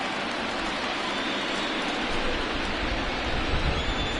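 Steady rain falls during a baseball game in MLB The Show, a continuous broadband hiss with a few sharper drop ticks near the end, no voices over it.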